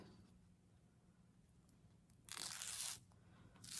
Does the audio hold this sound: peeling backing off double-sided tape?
yes